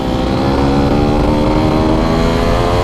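Restored Yamaha Force 1 F1Z motorcycle with its engine running: a loud, steady, close throttle drone with a buzzy two-stroke texture, no talk over it.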